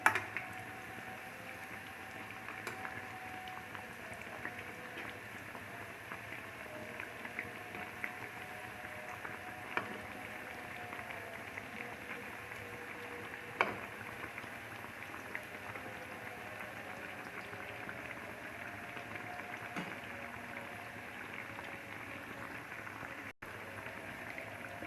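Chicken kebabs frying in a pan give off a steady, soft sizzle, with occasional small pops and crackles and no talking.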